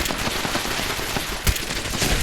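Turrets firing inside a building in the video game Fallout 76: rapid, continuous automatic gunfire rattles close and loud, with a sharper burst midway and no talk over it.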